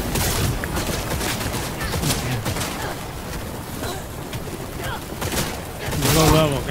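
Gunfire from low-level guns in Cyberpunk 2077, a dense rattle of shots running under a voice as he plays, with a louder burst near the end.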